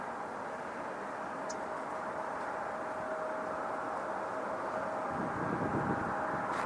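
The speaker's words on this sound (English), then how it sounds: "I see a plane behind me coming downwind." A Frontier airliner passes in the distance on its downwind leg, heard as a steady, faint, broadband jet roar that swells slightly toward the end, with no talking.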